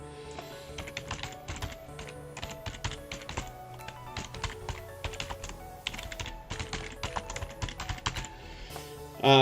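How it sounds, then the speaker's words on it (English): Continuous computer keyboard typing with steady clusters of crisp keystrokes and brief pauses, close to the mic, with a louder thump right at the end. "It's almost getting easier to type these things."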